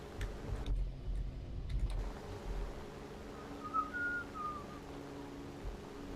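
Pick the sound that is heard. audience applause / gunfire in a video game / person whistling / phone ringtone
person whistling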